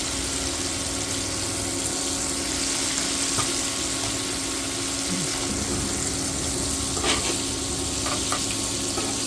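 Small fish crowded together in a pan of hot oil, sizzling in a steady, dense crackle with occasional sharper pops, close up and continuous.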